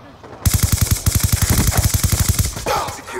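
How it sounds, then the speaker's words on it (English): Rapid automatic gunfire from Black Ops 2 multiplayer rattles out in one loud, sustained burst of evenly spaced shots lasting about two seconds, followed by quieter game sounds. "a freaking teammate's shooting at me for no reason."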